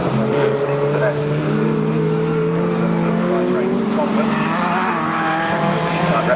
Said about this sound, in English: Stephen Furness in the Jaguar D-type, still keeping at bay Brian Watson as well